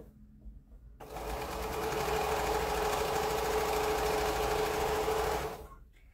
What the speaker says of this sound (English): And I'll sew this, and then I know I have this piece done.